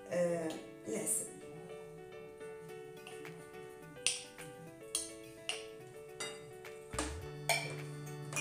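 Chocolate powder, oats, honey and banana mixed in a bowl, with a string of sharp clinks and taps of a utensil against the bowl at a steady pace, close, over soft background music.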